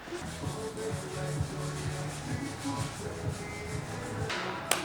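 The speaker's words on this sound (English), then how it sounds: "We sanded this shit down." Hand sanding on a rusty Saab car body outdoors: steady, rhythmic rasping strokes repeat over and over at close range, ending with a brief louder scrape.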